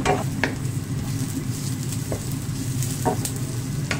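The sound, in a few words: stir-frying celery, onion and radish for fried rice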